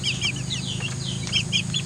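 Chickens raised for 45 days on a farm cluck and chirp softly in a busy flock, faint calls rising over a low steady hum of background noise.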